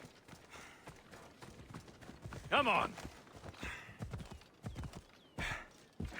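Horse hooves clip-clop in the Assassin's Creed Odyssey video game, a quick steady gallop-like patter running through the clip, with a brief whinny-like burst midway and a voice speaking over it.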